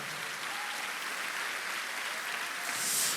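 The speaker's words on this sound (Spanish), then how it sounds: "Y a su nombre, fuerte ese aplauso." Steady applause from a church congregation at a Sunday evening service, a dense continuous wash of clapping that holds level throughout and swells slightly toward the end, with no voices over it.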